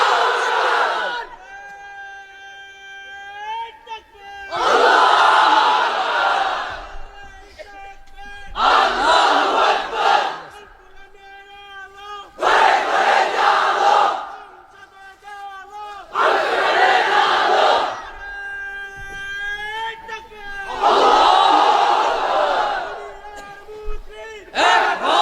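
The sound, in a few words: crowd of unmarried men chanting takbir in unison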